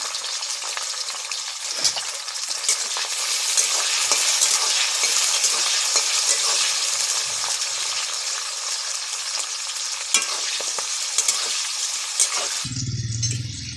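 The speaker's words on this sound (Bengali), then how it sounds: "এবারে আমি ভেজে নেব বিনস আর ক্যাপসিকাম" Beans and capsicum sizzle and crackle loudly in a hot pan, continuous throughout, with occasional stirring scrapes before the sizzle suddenly drops away at the end.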